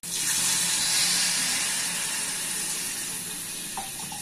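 Water poured into a pan of jaggery and sugar mix, a steady hissing, sizzling gush that starts abruptly, stays loud for several seconds and then eases off slightly, with a faint clink near the end and no talk.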